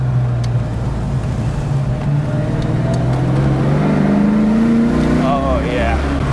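A 1990 Ford Mustang Saleen engine pulls hard through a corner, a steady low drone climbing in pitch as the car accelerates out, heard from inside the cabin with faint talk underneath.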